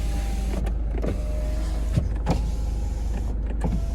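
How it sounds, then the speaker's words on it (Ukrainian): Electric side mirrors on a 2015 Ford Focus 1.5 diesel folding and adjusting, short motor whirs and clicks repeating over a steady low hum inside the car. "дзеркала складаються, ліве дзеркало регулюється"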